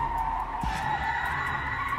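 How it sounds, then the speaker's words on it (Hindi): A car skids to a stop in a dramatized story sound effect, a sustained loud tire screech with a brief thump partway through. "मैंने जब गाड़ी रोकी तो वो जमीन से खरचते खरचते एक साइड पर रुक गई"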